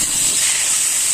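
Grated onion hits hot mustard oil in a pan, giving a loud, close, steady hissing sizzle that carries on without a break.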